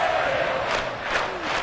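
Stadium crowd in a video game football match, a dense roaring swell of many voices with rising cheers, steady and loud throughout, with a faint tonal whistle-like line running underneath.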